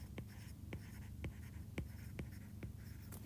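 Marker or chalk writing a line on a board, a series of short scratchy strokes spaced about half a second apart, close and clear against a low steady room hum.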